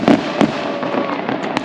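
A 120-shot firework cake bought for New Year fires off in loud, sharp bursts, several distinct bangs with crackling tails, each report standing clear over a steady background hiss.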